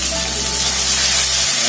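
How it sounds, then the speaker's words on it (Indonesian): Spice paste for chicken tongseng sizzles and fries in a pan, giving a loud, steady, close hiss with a low hum running beneath it. "Bumbunya ini kita tumis sampai wangi"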